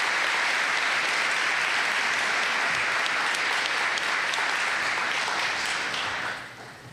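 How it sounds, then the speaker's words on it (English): Audience applause at a college convocation, sustained and full-bodied clapping from a large crowd that carries on for several seconds before fading off at the end. "One more round of applause for our recipients."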